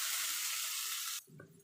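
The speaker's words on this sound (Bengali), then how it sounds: "এবার একটুখানি নেড়ে চেড়ে নেবো" Ginger-garlic paste fries in a pan while being stirred, a loud steady sizzle lasting about a second before cutting off abruptly to a few soft, low scrapes.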